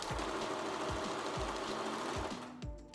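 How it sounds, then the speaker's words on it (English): A sewing machine stitches a pattern into Velcro for a front D-ring harness attachment, running steadily at close range with a regular mechanical thump and hum, then easing off at the end. "this is the pattern we're going to sew into this Velcro"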